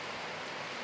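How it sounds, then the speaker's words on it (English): Steady rain falling outdoors near a barn, a dense, even hiss of drops with no pauses, moderately faint and uninterrupted. "this is the kind of rain that we've been needing"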